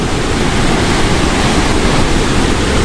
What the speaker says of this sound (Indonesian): ini adalah suara ya beserta kondisi arus sungai yang berada di Lodoyo Blitar